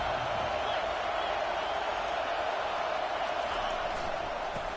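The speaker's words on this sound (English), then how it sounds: "Listen to the crowd energy here in the early going." Stadium crowd roar in a college football video game, Michigan against Ohio State, a steady loud wash of cheering noise without breaks.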